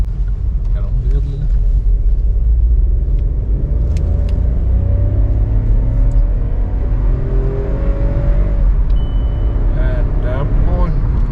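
A Volkswagen Polo GT cruises along a highway, its engine and road noise a loud steady rumble inside the cabin while people talk over it.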